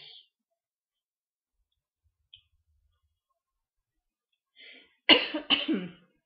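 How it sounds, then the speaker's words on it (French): Near-silence with a few faint clicks, then two sharp close coughs in quick succession from a persistent cough, loud against the quiet. "Excusez-moi pour ma toux, qui est encore persistante"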